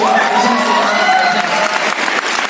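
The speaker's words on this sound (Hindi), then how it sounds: "एक राउंड ऑफ अप्लॉज मैं आप सारे लोगों के लिए चाहूंगा सर" An audience at a motivational speech event claps in dense, continuous applause with some cheering, a voice talking over it.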